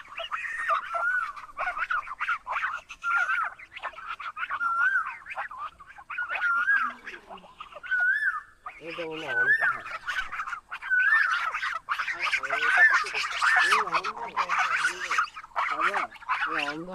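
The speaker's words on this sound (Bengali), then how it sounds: "রাজহাঁস।" Geese, heard on a foggy village path in Naogaon, honk again and again in a steady run of loud, nasal calls close by. The honking grows busier and overlaps toward the end.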